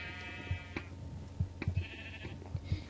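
Sheep bleating in the video game Minecraft: a few wavering bleats come at intervals, mixed with soft low thumps and clicks of game activity, with no talk.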